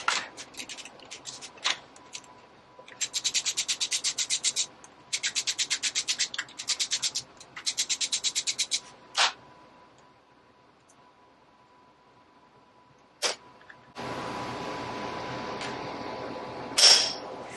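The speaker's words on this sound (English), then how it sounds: "trapdoor bolt's coming out" Wrench work pulling the trapdoor bolts from a 1980 Harley XLH transmission: three bursts of rapid ratcheting clicks, a few sharp metallic knocks, then a steady hiss near the end, close by with no talk.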